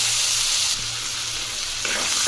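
Finely chopped potato sizzling in hot oil with green chilli, a steady close frying hiss that shifts slightly as pieces settle, with no voices.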